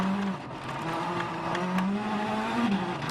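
Mini rally car driven by Michał Kosciuszko on the Loulé special stage of WRC Portugal 2013, engine loud and close throughout, pitch climbing and dropping through gear changes with faint tyre and gravel noise.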